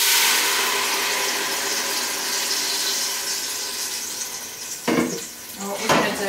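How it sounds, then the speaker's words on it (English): A jollof rice mixture pours into a hot pan, a broad hissing, bubbling sizzle that carries steadily before a couple of clunking knocks near the end. "the next step is to pour the mixture into the pan"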